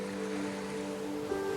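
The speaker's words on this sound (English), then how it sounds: "waves from both sides constantly clash" Sea waves from the Yellow Sea and the Bohai Sea clash along a long ridge, giving a steady wash of surf under a sustained low musical drone.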